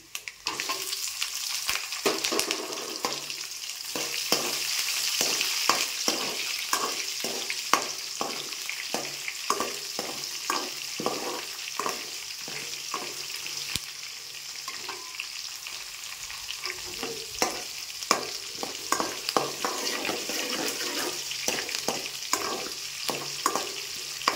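Steady frying sizzle of onions and green chillies in a pan with frequent stirring scrapes and clicks, close and fairly loud, continuous throughout with no talking.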